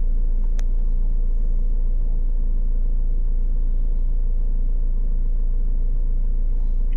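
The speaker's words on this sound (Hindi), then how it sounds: "रेस करेंगे बंद चालू करके।" A Jeep Compass with a check engine light fault (EGR-related codes P046C and P0403) runs close by, producing a loud, steady low engine drone and rumble that holds throughout with no spoken voices.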